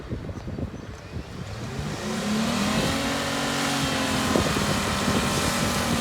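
A stuck truck revs hard in loose ground, its engine note climbing into a sustained strained roar with spinning, churning texture underneath, fairly close and steady, with wind buffeting the microphone.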